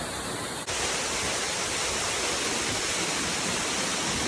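Waterfall in Western North Carolina roaring as a steady, dense broadband rush close by, with a brief dip near the start and then continuous loud spray and pounding water throughout.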